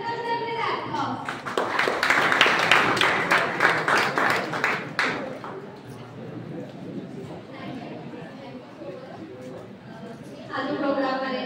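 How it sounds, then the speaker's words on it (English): An audience claps for a teacher at a college celebration, a dense burst of applause that swells and then thins into murmuring chatter, with a second flurry of clapping at the end. "Welcome them with applause."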